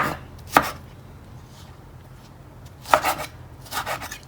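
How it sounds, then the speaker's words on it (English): A knife chops tomatoes on a cutting board, giving a few sharp, close, separate thuds with pauses between them and a quick cluster of cuts at the end. "So I'm going to chop my tomatoes."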